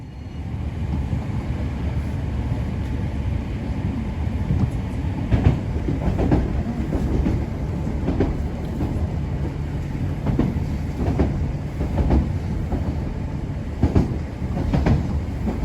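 Merseyrail class 507 electric train 507001 passing, a continuous rumbling roar with repeated clickety-clack wheel beats over rail joints, loud and close, with no talking.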